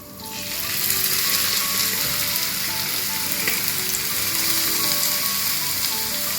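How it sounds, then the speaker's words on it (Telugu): Tempering spices hit hot oil and are poured into freshly ground coconut chutney, bursting into a loud, dense, steady sizzle that rises within the first second and holds close and strong throughout. "ఇప్పుడు మనం ఈ పోపు దినుసులు వేసేసుకుందాము."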